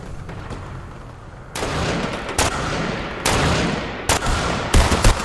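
Rapid gunfire from weapons in the video game Fortnite, with loud bursts and volleys that come close together and stack into dense stretches of shooting.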